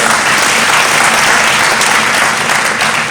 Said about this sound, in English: Please clap for 7 years.